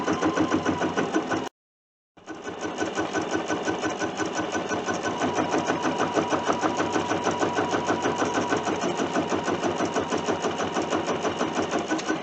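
A Bernina sewing machine stitches an edge-to-edge quilting pattern, a loud, fast, steady mechanical chatter that stops briefly, then restarts and runs on continuously.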